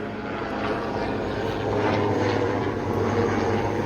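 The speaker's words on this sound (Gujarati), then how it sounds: "તો હેલિકોપ્ટર જાય રહ્યું છે" A helicopter flies overhead, its rotor and engine making a steady, fairly loud droning throb that holds for the whole span without any talk.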